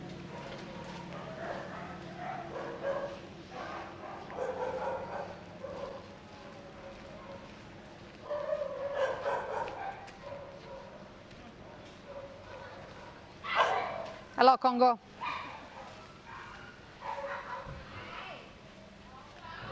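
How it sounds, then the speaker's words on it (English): Small dogs barking at the Soi Dog Foundation shelter in Phuket, Thailand, scattered yips and barks in a kennel section, mostly under steady talk from a guide, with one louder burst of barking near the end. "this is the section for small dogs"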